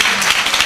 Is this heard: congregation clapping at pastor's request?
yes